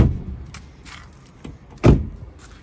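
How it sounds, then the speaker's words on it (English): A small 21-year-old hatchback, freshly valeted and machine polished, having its doors shut: two or three solid thuds spaced apart, the last the loudest and closest, with light clicks and rustles between. "Shut the doors."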